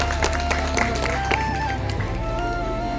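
An audience at a school mothers' event, a Haldi-Kunku paithani prize game, claps for a winning parent of an eighth-grade student, with brisk continuous clapping and a faint tone running underneath throughout.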